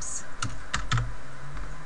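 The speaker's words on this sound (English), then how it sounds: "you'd just start typing a company name" Computer keyboard typing while a company name is entered into a billing address field: a few quick, sharp key clicks in an irregular burst, close and clear, with a voice talking faintly alongside.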